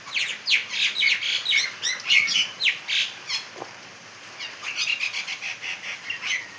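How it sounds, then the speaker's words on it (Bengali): Rain-soaked birds squawk and chirp in rapid, repeated calls during a heavy downpour in South 24 Parganas, West Bengal, over a constant hiss of falling rain. "দেখো পাখিগুলো উড়ে যাচ্ছে,"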